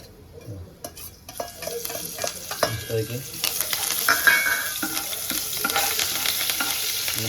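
Asafoetida, cumin and curry leaves hit hot oil in a pan for a tempering, building into a steady, close sizzle and crackle with some stirring scrapes, no talking.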